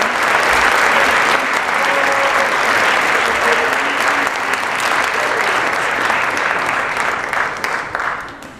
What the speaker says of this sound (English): A round of applause for this year's senior class members for the Mary Harrison.